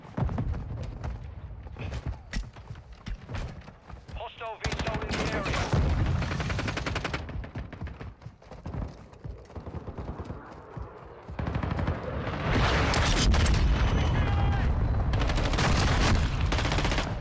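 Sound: shotgun gunfire in video game Warzone 2

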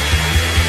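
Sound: hair dryer blowing

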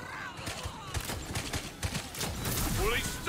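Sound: Masterwork Handbow pistol firing in video game Tiny Tina's Wonderlands

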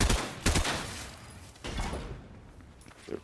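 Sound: gunshots shooting something down in Fortnite video game

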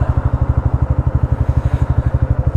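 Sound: motorcycle engine running

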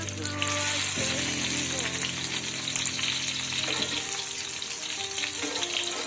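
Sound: green tomatoes frying in oil

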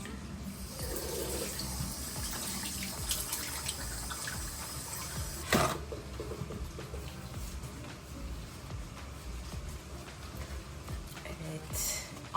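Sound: water running from tap while washing face

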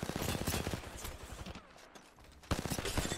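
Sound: LMG gunfire in short bursts, from a video game

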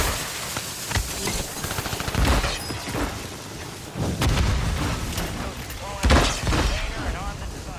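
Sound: mortar artillery fire in Call of Duty Warzone video game

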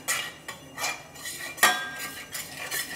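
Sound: spices being mixed with a spoon

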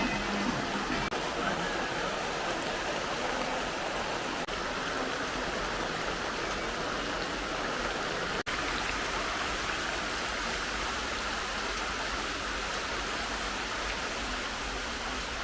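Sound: heavy rain

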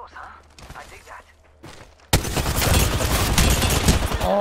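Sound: gunfire in Apex Legends video game

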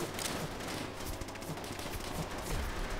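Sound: gunfire from bot soldiers in video game Call of Duty World at War

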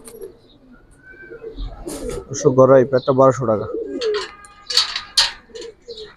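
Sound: Giribaz highflyer pigeons cooing

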